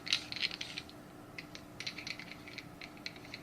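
Light metallic clicks and ticks come from the threaded bottom of a Darth Vader Korbanth MPP lightsaber hilt being unscrewed, a quick cluster at first, then sparser scattered clicks, close and fairly soft.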